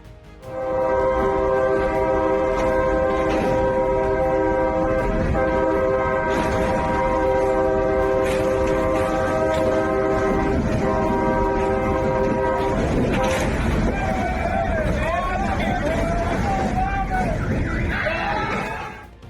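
A train rumbles past at close range, its horn blaring in a long sustained chord for much of the pass, then cutting off as rattling wheels and a wavering, siren-like tone take over before the sound fades at the end.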